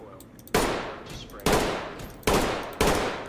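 Four sharp rifle shots in the tactical shooter Ready or Not, spaced roughly a second apart, each a loud close crack with a short decaying tail, alone without talk.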